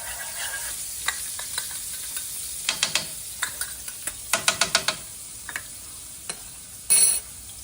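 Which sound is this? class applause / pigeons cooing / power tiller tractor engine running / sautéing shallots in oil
sautéing shallots in oil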